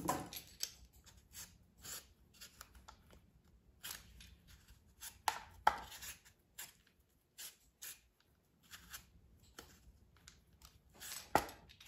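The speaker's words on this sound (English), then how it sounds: "And next I'm going to peel and cut the mango." A mango being peeled and cut with a knife, heard as a scattered run of close, dry scraping and slicing strokes with short pauses between them, no voices.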